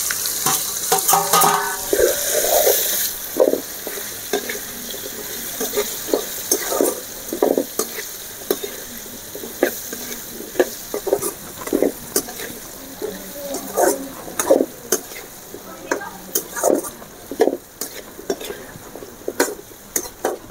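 Mango pieces and chili powder sautéed in oil for instant wedding-style mango pickle, a soft continuous sizzle broken by repeated scraping and clacking strokes of a spoon stirring in the pan.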